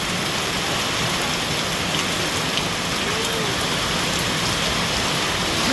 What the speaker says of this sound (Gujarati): જો આજે પણ વરસાદ ચાલુ થયો